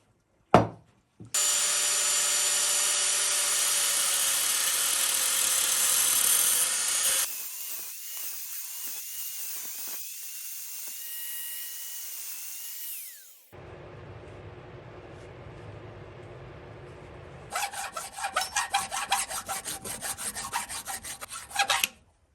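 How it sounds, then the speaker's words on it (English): An angle grinder with a cutoff wheel cuts a keyway into a motorized bike hub in a long, loud, steady, high whining grind. The pitch and intensity shift across several cutting passes, with brief quieter stretches between them, and no voices are heard. "we cut a nice keyway just with an angle grinder and a cutoff"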